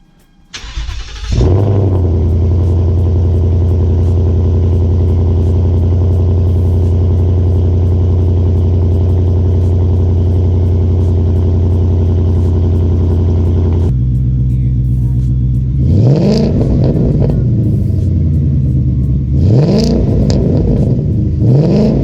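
A 2018 Ford Mustang with a 10-speed and a MagnaFlow exhaust, tuned to about 700 hp, fires up with a loud, close burst and settles into a deep, steady idle. Near the end it gives two rising, sharp revs.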